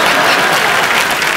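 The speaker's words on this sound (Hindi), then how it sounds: "और एक बार जोरदार तालियां।" A studio audience at a Hindi comedy talk show applauds loudly and steadily, a thick, continuous wash of clapping with no break.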